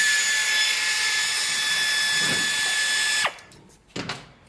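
A power tool spins out bolts holding the oil cooler to the radiator on a 2020 BMW S1000RR, a loud sustained whine that cuts off abruptly, followed by a brief second burst close by.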